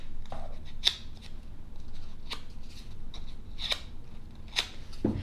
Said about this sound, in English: I'll take the edge of my scissors, you can either open or close, it doesn't matter, and give it a little bit of a curl